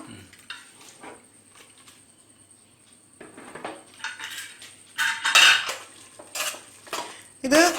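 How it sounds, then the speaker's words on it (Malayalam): Pots and metal utensils clatter and scrape in a home kitchen as a pressure cooker holding semiya payasam is opened, starting with faint taps and building to loud, close bursts of clanging toward the end. "അപ്പോൾ നമുക്ക് കുക്കർ ഒന്ന് തുറക്കാം"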